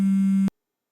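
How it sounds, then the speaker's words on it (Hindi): A phone rings with a single steady electronic tone that holds for about half a second, then cuts off into silence. No voices are present. "मुराद का फोन।"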